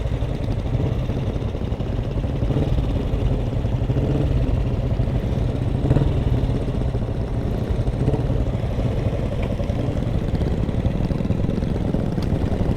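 A group of pre-war motorcycles gathered for an annual vintage ride, their engines idling and rumbling together in a steady low clatter, fairly close, without speech.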